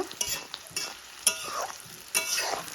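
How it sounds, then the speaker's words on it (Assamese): Chopped onions and green chillies fry in a pan for a chicken curry, a continuous sizzle broken by a few sharp scrapes and clatters of a spatula stirring them, close and fairly loud. "পিঁয়াজ আৰু জলকীয়াখিনি এতিয়া ভালকৈ ভাজি ল'ম"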